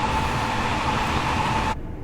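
Azuma high-speed train running on the East Coast Main Line in Train Sim World 5, a loud, steady rumble with a sustained whine that cuts off abruptly near the end.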